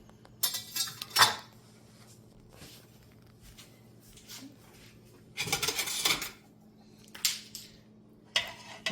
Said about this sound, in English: then we're going to stir it for about a half an hour